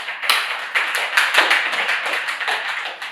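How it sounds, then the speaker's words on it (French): A debate audience claps for the participants in a short burst of applause, moderately loud and irregular, with a few sharper hand claps standing out and no talking. "Applaudissez-les s'il vous plaît."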